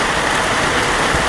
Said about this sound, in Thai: ฝนก็เริ่มแห้งมาอีกแล้วพี่น้อง